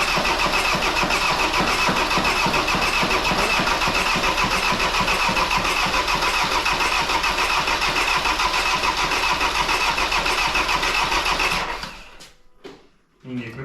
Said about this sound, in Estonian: see mootor käib jumala normaalselt